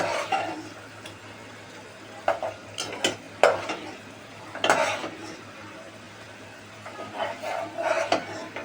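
Rice is stir-fried with beef in a pot for Bengali khichuri, with a low continuous sizzle and repeated scraping, clanking spoon strokes against the metal.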